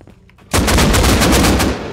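AK rifle gunfire in the Rust video game: after a brief quiet lead-in, a loud, rapid burst of automatic shots rings out in a steady rhythm for over a second, close and alone with no talk.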